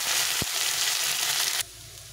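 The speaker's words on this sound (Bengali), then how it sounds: "করলাটা ভেজে নেব।" Bitter gourd with potatoes frying in a pan, a close, steady hiss of sizzling oil that drops away abruptly near the end, with a single short knock early on.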